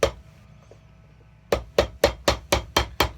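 A hammer drives a new welt down over a shoe last on an Allen Edmonds shoe. One sharp tap is followed by a pause, then seven quick, evenly spaced whacks land close and crisp.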